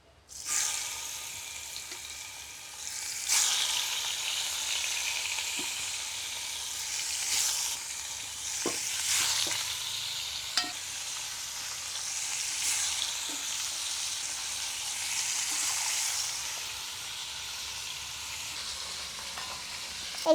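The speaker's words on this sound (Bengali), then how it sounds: "এখন দিয়ে দেবো মাছ কড়াইতে।" Fish being fried in mustard oil in a wok for a rohu curry with green tomato, giving a steady close sizzle with occasional louder pops and stirring clinks throughout.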